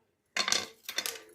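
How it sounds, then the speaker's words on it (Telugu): A kitchen knife slices ridge gourd into pieces, giving two quick, close, crisp cutting strokes against a board, separated by a short pause, with no talk. "కోస్తున్నానండి"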